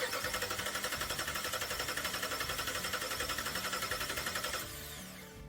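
A Hemi engine with a rough-running fault ticks and chatters in a rapid, even mechanical rhythm, fairly quiet, then drops to a softer hum near the end.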